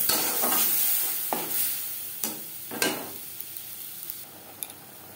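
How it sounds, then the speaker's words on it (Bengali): A ground paste of ginger, green chilli and onion fries with onion and garlic in a pan, hissing in a steady sizzle while a spoon scrapes through it in a few distinct strokes, close and clear. "এক দু মিনিট পেঁয়াজের সাথে রসুন ভেজে নেওয়ার পর দিয়ে দেবো মশলার পেস্ট।"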